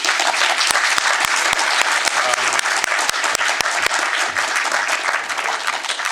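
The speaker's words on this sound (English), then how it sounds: "So we will thank both of you again with a round of applause" Seminar audience applauds at the close of a panel discussion on Europe-Russia relations, sustained dense clapping with sharp individual claps standing out, fairly loud throughout.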